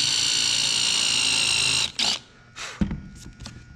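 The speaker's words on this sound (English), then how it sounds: "when you're driving the screws, usually you're going to use the 1-inch or the 1 1/4-inch screws to attach your masonite to your platform" A cordless drill or impact driver whines steadily and loudly, driving screws to attach masonite to a wooden platform, then cuts off into short bursts and clunks of handling.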